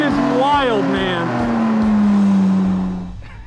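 A modified budget sports car, a so-called poor man's Lotus, races hard on a track and passes other cars, its engine revving and shifting loudly up close with rising and falling pitch sweeps.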